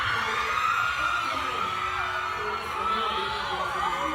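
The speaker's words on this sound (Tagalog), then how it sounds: "Diyos ko, yung sigawan ng tao." A crowd of people shouting and cheering, a steady wash of many excited voices and whoops held loud and continuous, without clear individual speech.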